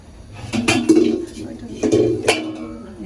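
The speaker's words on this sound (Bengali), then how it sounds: "এবার আমি ঢাকা দিয়ে দেব" A metal lid goes onto a cooking pot of biryani, giving two close, loud clanks about a second apart, each followed by a short ringing rattle.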